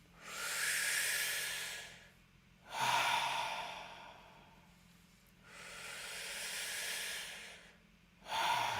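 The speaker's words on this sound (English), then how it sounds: "Deep inhales in the belly and then long exhales to the mouth." Slow, deep breathwork during a guided meditation class, with long airy inhales and exhales alternating in a steady rhythm, close and soft, with no talk over it.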